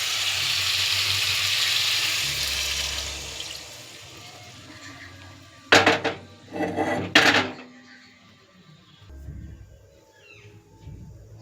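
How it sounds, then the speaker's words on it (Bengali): Water poured into a pan of frying fish and eggplant curry gives two loud hissing, bubbling bursts after a steady sizzle, then settles into a quieter simmer. "আমি জল ঢেলে দেবো।"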